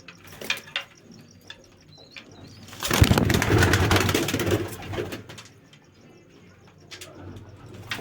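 Large pigeons in a loft coo low and close, with a burst of rustling and fluttering in the middle and a steady high whine behind; no one speaks.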